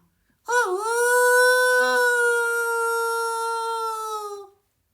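A person's voice imitates a wolf howl: one long, sustained, rising-then-steady howl lasting about four seconds, close and clear, then fading out.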